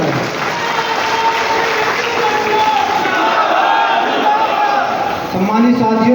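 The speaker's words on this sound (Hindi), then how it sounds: "जोरदार तालियों से उनका स्वागत कर रहे हैं।" Loud, steady applause from a crowd at a Bahujan Samaj Party gathering welcomes Harvilas Rajju Majra into the party, sustained throughout with voices mixed into the clapping.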